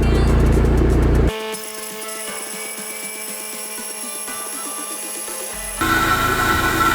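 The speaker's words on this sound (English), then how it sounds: "I'll flip the compressor on and we'll see" An onboard air compressor installed on a vehicle for inflating tyres switches on after a loud engine rumble, running with a steady rapid pulsing chatter for several seconds before the rumble returns.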